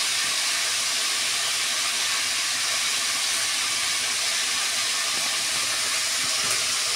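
Snake gourd and potato pieces fry in a pan, giving an even, constant sizzling hiss that stays close and unchanged from start to finish with no talking.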